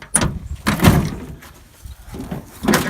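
The door of an old truck is opened, giving a few close, loud metallic clunks and creaks at a stiff, uneven rhythm.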